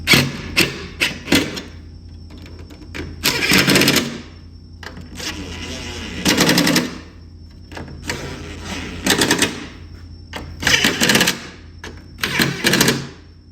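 Ratchet snugging 7/16 bolts while installing a rack on a Polaris sled, heard as bursts of quick clicking separated by short pauses, close and fairly loud.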